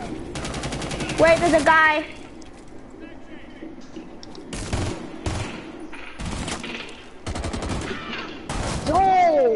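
Rapid automatic gunfire in a Rainbow Six video game erupts in several bursts with sharp crackling shots and pauses between them, while players talk excitedly over the action.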